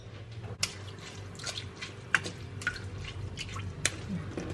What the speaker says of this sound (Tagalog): Kaya i-rinse ko siya ng tubig.